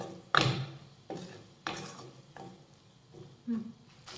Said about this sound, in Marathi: हा टोमॅटो परतून घेऊयात